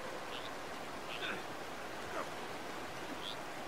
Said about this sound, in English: how much force does a waterfall need to actually kill you?